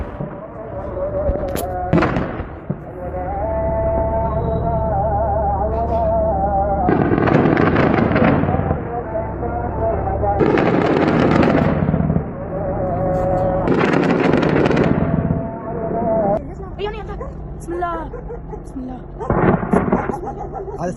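Heavy gunfire in a ground clash in Iraq between US troops and Kataib Hezbollah: loud, booming bursts and sustained crackling volleys, some near and some more distant, with a voice talking over parts of it.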